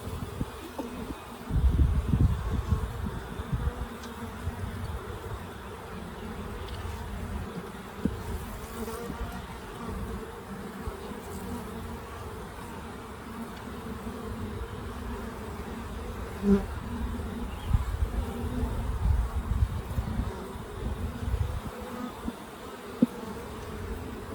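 A small honey bee swarm hums steadily around a hive comb set between two clusters, a dense, continuous close-up buzz that swells and fades slightly as bees fly past, with no talking.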